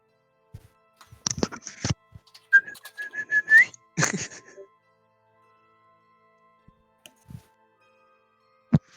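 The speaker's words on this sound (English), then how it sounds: "I just whistle for them." A single person gives a short, steady whistle to call others, loud and near, surrounded by brief clicks and scattered handling noises in an otherwise quiet room.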